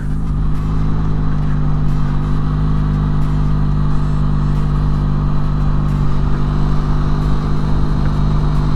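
A Benelli Leoncino 500 motorcycle's engine drones steadily while the bike is ridden through a roundabout, a loud, continuous mid-revs hum with a constant tone and no talk.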